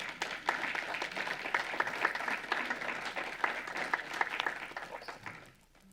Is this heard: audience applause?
yes